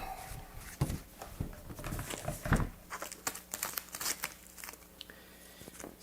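Masking tape peeled and crinkled off the body of a Gibson Gold-top guitar during a refinish, giving a close run of irregular crackling rips and crumples over about six seconds, with a few sharper tearing bursts and no speech.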